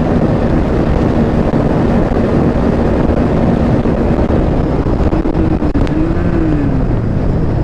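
Two motorcycles, a TVS Apache RTR 160 4V and a Bajaj Pulsar NS160, drag race under heavy wind roar. The engine drone rises in pitch late in the run, with no talking.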